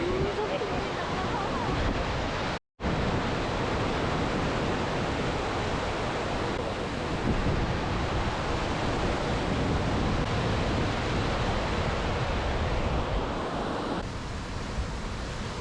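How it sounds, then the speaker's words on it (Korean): Roar of the Li Phi waterfall as it pours through a rocky gorge in southern Laos, a loud, steady broadband rush heard up close, with one brief dropout near the start. "굉음을 울리며 협곡을 흐르는 폭포를 가까이에서 바라보며 폭포 위를 걷는 짜릿함을 느껴보세요"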